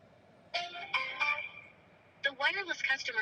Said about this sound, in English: All right, calling the other number now. I don't know if you guys can hear it ringing or not.